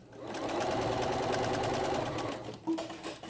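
A Bernina 325 sewing machine stitches stretch binding onto a knit head sock mask, running in one continuous fast mechanical whir close up for nearly three seconds before slowing and stopping with a small clunk.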